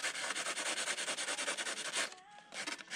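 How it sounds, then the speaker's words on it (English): Sandpaper rubs back and forth over the edges of carbon tubes, chamfering them in a steady rhythm of close, loud scratchy strokes that pause briefly before resuming. "just take some sandpaper and just chamfer the edges"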